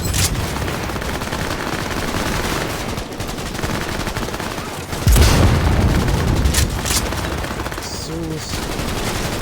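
Loud, rapid gunfire rattles nonstop in Cyberpunk 2077 on Xbox Series S, with sharper bursts and booms standing out from the dense barrage as the firefight goes on.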